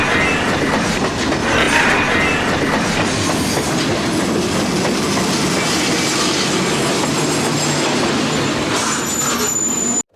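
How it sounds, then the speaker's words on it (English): A freight train charges through a railroad crossing during an Operation Lifesaver crash test against a school bus, a loud, continuous roar of rumbling wheels and rattling cars that holds steady throughout, with a squeal near the end. "A crash test by Operation Lifesaver showing a train obliterating a school bus to warn people about railroad crossing dangers."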